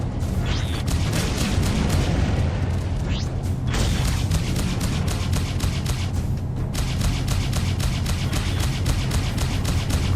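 Spaceship gunfire in the space combat video game Freelancer: steady rapid streams of blaster shots over a deep engine rumble and booming impacts, dense and continuous throughout.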